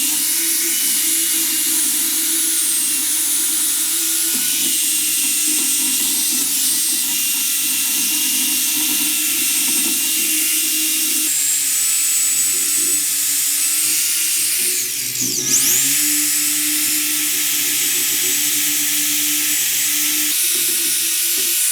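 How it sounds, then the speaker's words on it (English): Power wire brush cleaning a 1923 Fisher & Norris anvil, a continuous high whining grind held steady and loud up close for the whole stretch, dipping briefly once. "First thing to do is just wire brush it."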